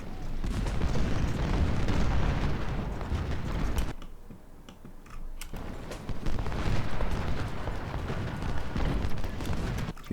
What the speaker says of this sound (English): A few more shots into Morrison as he's running away